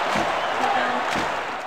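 A crowd roars and cheers in a steady, dense wash of noise that holds at full loudness throughout, in the GameCube soccer game RedCard 2003.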